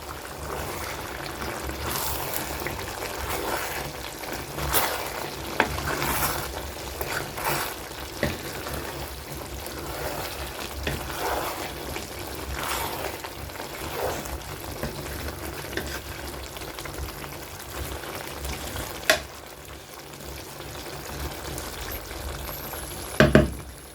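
Chicken biryani in Covai Angannan style cooks in a pot with a steady sizzling bubble, broken by repeated scraping stir strokes of a ladle against the pot, close and fairly quiet, with no talk.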